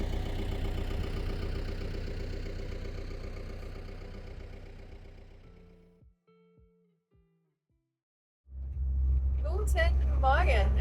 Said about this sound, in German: Der Motor läuft gerade noch ein bisschen kalt.